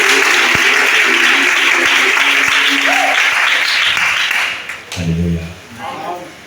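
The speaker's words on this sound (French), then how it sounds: "Acclame d'abord." A church congregation applauding, a steady crowd clapping that fills most of the stretch before fading, followed by singing voices.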